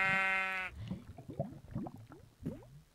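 Sheep bleating in the video game Minecraft, a few short wavering bleats in quick succession after a brief tonal chime, close and clear with no talk.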